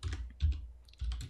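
Quick keystrokes on a computer keyboard, three short bursts of soft clicking taps close by in a quiet room.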